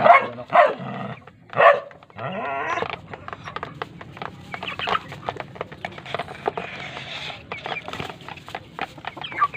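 Backyard chickens peck at soft fermented feed, with soft clucks and a dense patter of quick pecking clicks. A few louder calls and clucks rise near the start.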